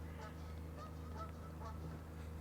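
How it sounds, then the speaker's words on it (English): Geese and swans honk excitedly nearby, a loud, continuous chorus of overlapping calls from just out of sight. "there are swans, geese, sorry, going nuts just out of frame"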